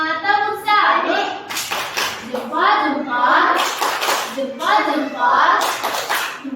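Young kindergarten children clap their hands together in a classroom, a rhythmic patterned group clap in several short bursts, mixed with children's voices chanting along.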